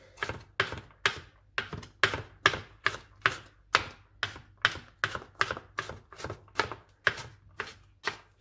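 A knife chops garlic on a cutting board in steady, rapid strokes, about twenty crisp close-up thuds in an even rhythm with no talk.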